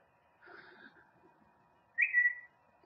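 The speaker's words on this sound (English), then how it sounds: "Excuse my phone going off there." A mobile phone chirps once with a brief, clear electronic tone after a soft, faint chime-like trill, close by in an otherwise quiet room where cards are being crafted.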